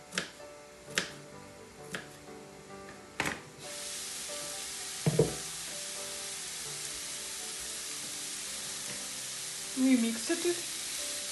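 Vegetables for beef borscht frying in a pan over medium heat, a steady broad sizzle that sets in a few seconds after some sharp taps and clinks, with a voice speaking briefly over it.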